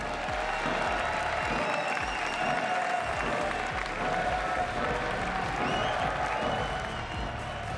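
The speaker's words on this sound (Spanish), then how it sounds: "Ruido, por favor, y un aplauso muy fuerte para Sendo." Loud, sustained audience applause with some cheering fills the whole stretch without a break, welcoming a guest onto a Spanish-language show.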